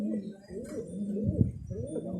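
Pet pigeons coo in repeated low, rolling phrases close at hand, with a voice audible in the background.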